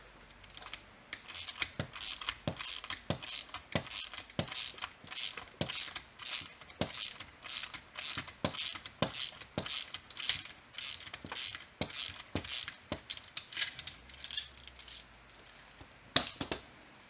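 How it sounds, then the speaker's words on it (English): A wrench loosens the 19 mm top nut on a thrust bearing assembly while an Allen key holds the shaft, giving a steady series of sharp ratcheting clicks, close and moderately loud, with no talking. "keep the shaft still while you loosen the top nut"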